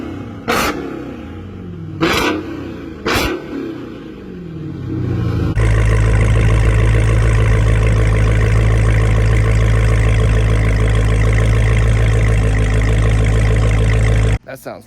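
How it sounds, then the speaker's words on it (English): A Dodge Hellcat Charger or Challenger with a Corsa exhaust: a few sharp bursts and revs first, then a loud, steady, deep idle rumble that holds for several seconds before cutting off abruptly. "I could even put an exhaust clip like right here."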